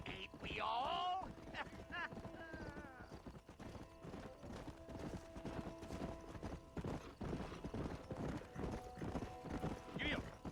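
Horse hooves clip-clop steadily in Red Dead Redemption, with a short whinny near the start and a faint rumble beneath, the rhythmic trotting continuing throughout under brief game dialogue.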